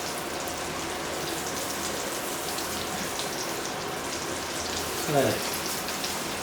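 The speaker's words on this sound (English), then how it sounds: "You see the oil is bubbling up a lot." Pork ribs frying in bubbling, reused old oil for Cantonese sweet and sour ribs, giving a steady dense crackling sizzle throughout, with a brief spoken word near the end.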